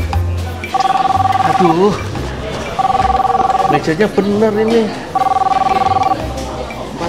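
Telephone call failing to connect: a repeating electronic two-tone signal sounds in three even bursts with gaps, while people talk over and between the tones.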